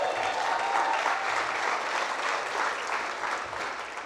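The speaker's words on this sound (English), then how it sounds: "You guys can clap for that," An audience claps steadily throughout at a church conference, a dense, even wash of applause from a large crowd in a hall.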